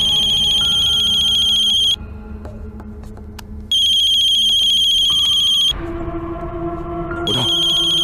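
A loud electronic phone ringtone plays in repeated bursts, pausing briefly between them, with no voices.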